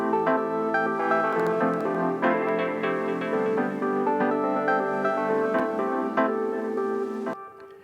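Chill deep house melodic parts play together, a distorted electric piano with a shimmering reverb tail forming lush sustained chords, steady and full before cutting off near the end.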